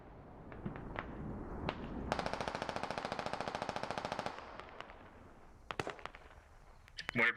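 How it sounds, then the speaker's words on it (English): A mortar barrage in the video game Squad lands as a rapid string of sharp blasts lasting about two seconds, followed by scattered single booms and cracks over a low battlefield rumble. "Mortar barrage is about."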